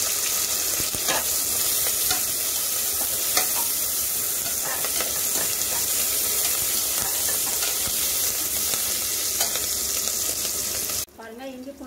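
Ginger and garlic sauté in a pan with cardamom, green chilies and curry leaves, a steady close sizzle broken by scraping stirs, ending in a short quieter stretch.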